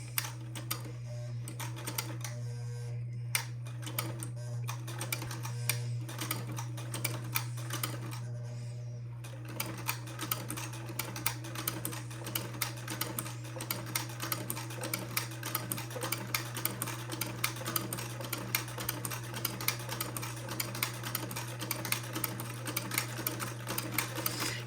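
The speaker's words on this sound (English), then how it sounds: "So very slowly, I'm going to proceed to sew the first buttonhole." A sewing machine stitches a buttonhole in a steady, slow, continuous run with a fine ticking needle rhythm and a constant motor hum, heard close and alone.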